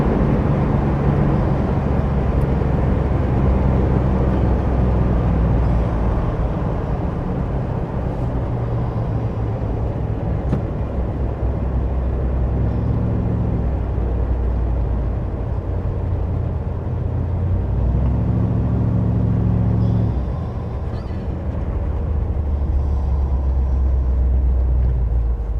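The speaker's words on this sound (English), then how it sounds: "Motor runs smooth." Engine of a 1956 Chevy Bel Air two-door hardtop running steadily while the car drives down the road, a loud continuous low rumble with a slight shift in pitch near the end, no talk.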